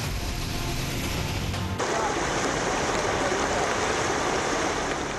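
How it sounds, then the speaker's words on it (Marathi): Heavy floodwater rushes through the flooded Andheri subway in Mumbai during torrential monsoon rain, a loud, steady broadband roar that stays constant and close for the whole stretch. "अंधेरी सबवेमधून एखाद्या नदीप्रमाणे पाणी वाहतंय"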